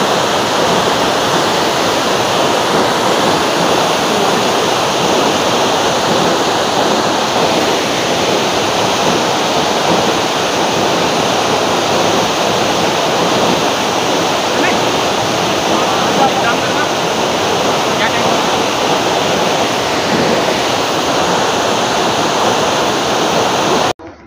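A steady, close, loud rush of falling water from a mountain waterfall on the Madhyamaheshwar trek runs unbroken for the full length. A faint voice can be heard beneath it.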